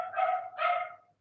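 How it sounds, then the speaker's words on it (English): A small dog gives two loud, close barks in quick succession indoors, then falls silent. "if you guys can hear Rexy barking as loud as she is,"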